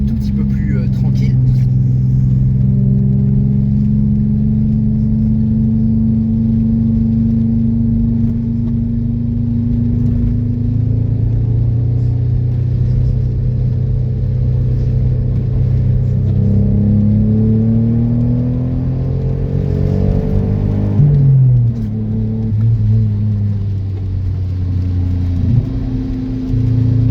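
A Citroën XM V6 24 drives along a quiet road, its engine giving a loud, steady mid-pitched hum that rises and falls with gear changes, and someone talks over it throughout.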